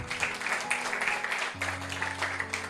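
Congregation applauding for the Lord in a church service, a steady wash of clapping with a sustained low organ or keyboard tone beneath it.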